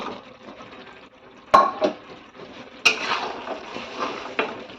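Potatoes dropped into hot oil in a pan, with two sharp clatters of metal on the pan followed by bursts of spattering, then a continuous crackling fry that carries on underneath.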